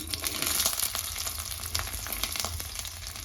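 Ground masala paste fries in hot oil in a pan, a close crackling sizzle with scattered spits and pops over a low background rumble.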